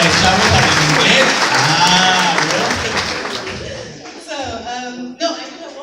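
An audience at a church evangelization group applauds a speaker, loud clapping that gradually fades, followed by people talking as it dies away.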